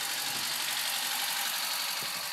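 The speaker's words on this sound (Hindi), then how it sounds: "और इंजन की साउंड कुछ ऐसी है" A 2005 Maruti Suzuki Zen LXi engine idles steadily with a constant low rumble and a faint hiss, no talking.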